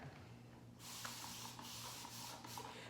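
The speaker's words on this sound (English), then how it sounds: "spray it on my scalp and throughout my hair" Several quick bursts of fine mist from a mist bottle spraying rice water onto hair and scalp, close and hissy, with short pauses between them and a faint low hum underneath.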